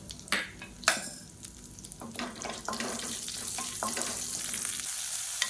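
Dried red chillies and curry leaves sizzle in hot tempering oil for a chutney, crackling in sharp pops at first and then settling into a steady, close, moderately loud hiss.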